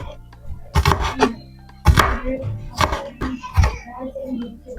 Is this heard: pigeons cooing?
no